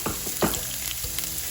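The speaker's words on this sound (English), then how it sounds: "I'll give it some time to heat up a little bit. I'm gonna go ahead now and put the onions" Onions sizzle steadily in hot oil for a Jamaican breakfast, with a constant crackling hiss and a few clinks and stirs near the pan.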